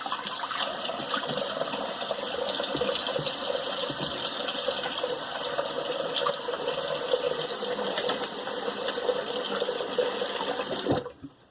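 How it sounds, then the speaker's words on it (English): Water runs steadily from a tap while a razor and face are rinsed after shaving, a constant close rushing flow with faint clinks, cutting off abruptly near the end. "Let me rinse."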